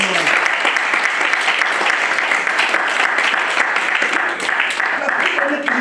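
A church congregation applauds a preacher, Pastor Guy Marcel, during a sermon: dense, steady clapping fills about six seconds, with crowd voices mixed into it.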